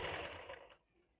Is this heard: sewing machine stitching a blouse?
yes